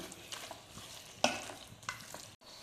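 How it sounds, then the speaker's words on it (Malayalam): Chicken perattu with ground pepper and masala being stirred in a hot pan, a soft sizzle beneath a couple of distinct scraping strokes of a spoon. "ഇനി എല്ലാം കൂടി നന്നായിട്ട് മിക്സ് ചെയ്ത് കൊടുക്കാം"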